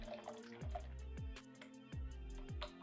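A makeup brush dunked and swished in a bowl of water, with a few repeated splashy sloshes at a steady rhythm, close and quiet, and no talk.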